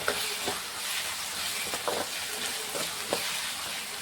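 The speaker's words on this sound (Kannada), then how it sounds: "ಇವಾಗ ಖಾರ ಒಂದು ಸ್ವಲ್ಪ ಕಲ್ತ್ಕೊಳ್ಳೋಣ" Chili masala being stirred into a frying cucumber stir-fry, a steady pan sizzle broken by a few soft scraping strokes of the spoon, close and even, with no voices.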